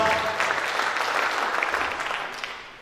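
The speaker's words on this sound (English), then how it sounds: "give Ricky a round of applause" A roomful of coaches and advisors at a school staff meeting claps for a newly introduced weight-room trainer, with steady, dense applause that holds near full strength before tapering slightly at the end.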